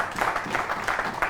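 An audience claps together in a steady, dense patter of many hands, close and fairly loud, with no talking over it.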